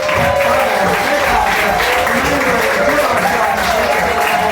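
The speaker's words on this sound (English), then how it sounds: "have one more round of applause for Claire Bowles, Dominic Hess, Pat Fryers, Claire" Audience applause for performers at a Melbourne stage show, a steady, loud wash of clapping lasting throughout, with a voice carrying over it.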